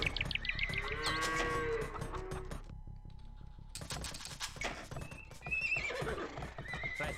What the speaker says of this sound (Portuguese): Fazer uns cavalos aí, pessoal.